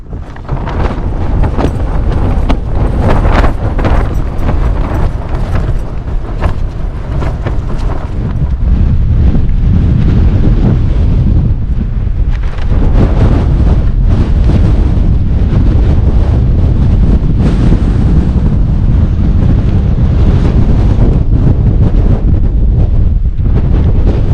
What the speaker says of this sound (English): We just got more wind instead.